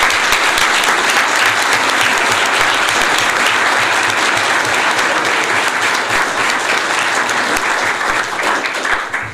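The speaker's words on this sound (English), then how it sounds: "So I'd like to get a round of applause for Mr. Iannozzi" Round of applause at a school board meeting, loud and dense clapping from a roomful of people held steady throughout, with faint voices underneath and a slight fade at the close.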